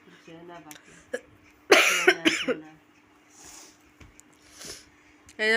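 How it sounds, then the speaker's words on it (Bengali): A person coughing indoors, a short burst of harsh, raspy coughs near the microphone, with a few lighter throat sounds and breaths around it. "মা এখনো নাক টানছে মায়েরও ভীষণ কাশি"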